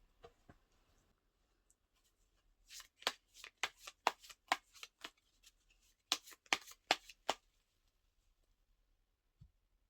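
Tarot cards are shuffled by hand in a quiet room, a burst of quick, sharp riffling flicks in uneven clusters, close and fairly soft, with no talking.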